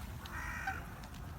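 A black bird caws in a London park, one short harsh call close by over low outdoor background noise.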